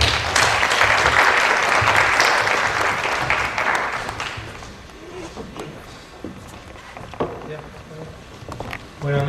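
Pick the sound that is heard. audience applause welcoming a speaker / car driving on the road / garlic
audience applause welcoming a speaker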